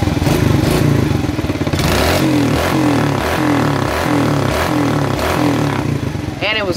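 A Kawasaki KLX110 dirt bike engine fires up and runs loud and close, with steady revving pulses and mechanical clatter, while someone talks over it.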